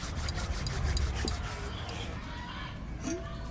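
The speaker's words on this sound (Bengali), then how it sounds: "কেশরি মেথি একটু হাতে ঘষে দেবো।" Dried fenugreek leaves (kasuri methi) are rubbed between the palms, giving a close, dry, rustling friction that carries on steadily with small crackles over a faint background.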